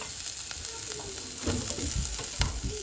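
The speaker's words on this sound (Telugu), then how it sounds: "ఆవాలు వేసి కొంచెం తాలింపు వేద్దాం." Mustard seeds sizzle and crackle in hot oil for a tempering, together with cumin, onion, curry leaves and green chilli, a steady near frying hiss with small popping bursts and stirring.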